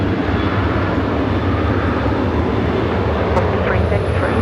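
A Qantas airliner departs a runway at Brisbane Airport bound for Sydney, its engines giving a loud, continuous broadband roar as someone talks over the noise.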